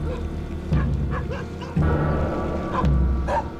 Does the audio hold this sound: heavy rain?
no